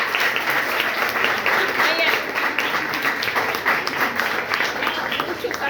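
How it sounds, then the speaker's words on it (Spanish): An audience applauds at an event, steady sustained clapping that fills the whole stretch without pause. "Muchos aplausos, no le creo mucho los aplausos"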